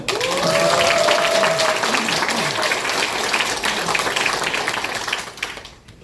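An audience claps at a political candidate's campaign launch event, a dense sustained burst of applause that starts at once, holds steady with a brief voice over it early on, then fades out near the end.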